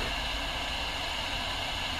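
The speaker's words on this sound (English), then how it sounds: "We're going to hear that sound of running water in a pipe." A brief, steady hiss of water leaking through a plumbing pipe, faint and muffled as heard through a metal pipe probe, continuous with no pauses.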